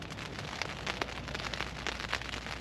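Heavy rain during Storm Jocelyn pours steadily on a camp in Edale in the Peak District, a dense continuous hiss close by, driven by strong winds.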